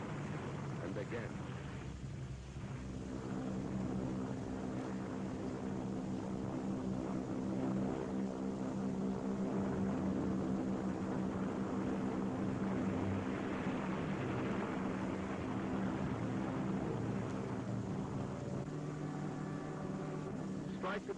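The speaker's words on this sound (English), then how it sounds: "Strike again with your bombers, wave after wave, again and again." Heavy wartime bomber aircraft engines drone continuously with a deep, steady propeller roar, loud and close throughout, with a faint rising and falling swell.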